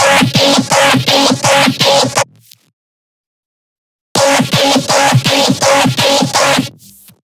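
A loud, buzzy Serum mono synth bass plays a steady chopped rhythm for a couple of seconds, falls silent, then repeats the same pattern.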